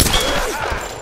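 A short, loud burst of gunfire in Tomb Raider (2013), close up, with shots overlapping in a dense crackling volley that lasts about a second.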